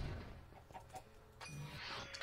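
A video-game chicken clucks in short, faint bursts over low background noise, with no voices.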